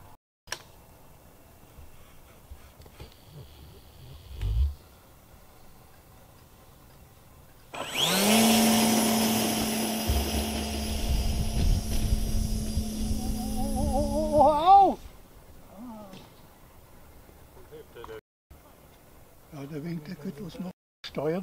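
A model aircraft buzzes in over a model airfield in Lindlar, its whining motor loud and near for several seconds and pitching down as it lands. Voices talk faintly before and after.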